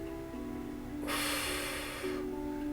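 A chair yoga participant takes one strong, close breath in through the nose during a seated stretch. The inhale is a loud breathy rush that lasts about a second under a steady background tone.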